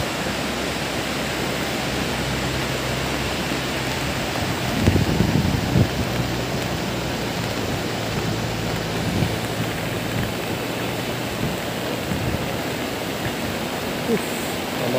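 A Semeru volcanic lahar flood roars past at full strength, a steady wide rush of churning water and strong wind with occasional heavier surges, loud and continuous.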